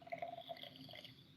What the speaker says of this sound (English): Now, can you hear me pouring this?